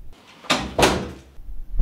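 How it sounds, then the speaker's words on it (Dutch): A door swung shut indoors, two close, firm thuds about a third of a second apart, with a short quiet after them. "je gaat toch niet mee dat hij de deur dicht gaat doen?"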